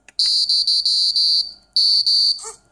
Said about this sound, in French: j'ai fait le petit bip bip bip bip bip bip pour montrer qu'il n'y a pas de conflit